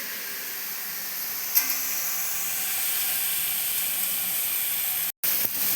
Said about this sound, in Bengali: পেঁয়াজের কাঁচা ব্যাপারটা যাতে চলে যায় তার জন্য পেঁয়াজটাকে আমি নাড়তে থাকবো।